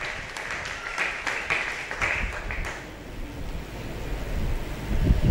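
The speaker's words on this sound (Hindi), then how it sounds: "जोरदार तालियां खुदा के जलाल के लिए।" Loud applause from a congregation at a church prayer service, a burst of hand claps that fades after about three seconds into low, rumbling room noise.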